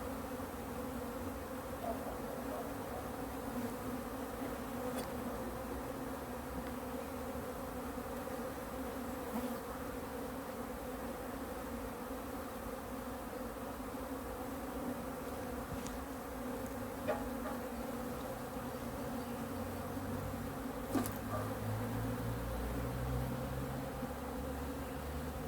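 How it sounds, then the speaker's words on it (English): Dense, steady hum of honey bees swarming around an open beehive during frame removal with a smoker, a continuous droning buzz close by with no talk. "There were so many bees in that corner, making it difficult to try and take out that frame"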